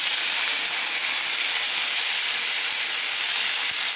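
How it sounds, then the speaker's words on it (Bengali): Steady, loud hiss of drumsticks frying in hot oil, an even sizzle with no pauses. "এর মধ্যে আমি এখন সাজনাটাকে একটুখানি ভেজে নেব"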